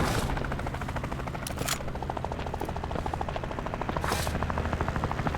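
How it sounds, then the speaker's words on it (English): Helicopter rotor chopping steadily through a round of the shotgun video game Shotgun Farmers, mixed with bursts of gunfire throughout. "Here comes the helicopter."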